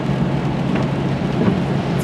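Steady rain drums on a car while it is driven, a dense continuous wash of noise with low road rumble and no voices.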